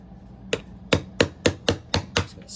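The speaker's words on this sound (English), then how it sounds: "in order to get this connector off here, use some very primitive tools, a hammer and something to chisel with" Seven sharp metallic hammer blows on a chisel, prying the connector off a 14.4V Snap-On Ni-Cd battery pack, struck in a fairly even rhythm at close range with no talking.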